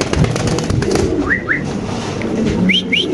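Giribaz pigeons handled at a market stall give short rising whistly calls, a pair near 1.3–1.6 s and another pair near the end, over steady crowd and handling noise.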